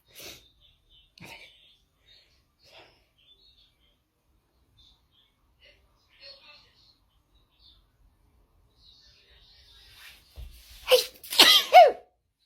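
Quiet near-silence with faint small noises gives way to a couple of sharp, close sneezes near the end, with a voice around them.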